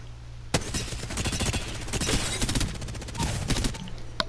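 Video game gunfire fills the stretch with dense rapid bursts and sharp cracks, loud and close, with a heavy opening shot and repeated volleys through to the end.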